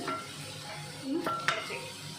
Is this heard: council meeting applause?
no